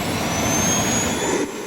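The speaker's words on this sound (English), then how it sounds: "The Samsung Jet 90 is about average, I'd say, when it comes to vacuum noise level." A Samsung Jet 90 cordless vacuum cleaner runs with a steady, loud, continuous whooshing roar and a thin high whine, holding constant throughout with a slight dip near the end.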